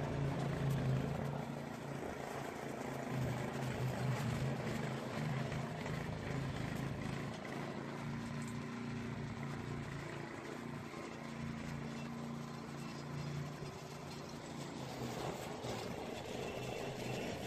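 A petrol lawn scarifier runs on a front lawn with a steady, rumbling engine drone and a rough broadband rattle from its tines, holding at a constant moderate level throughout with no voices.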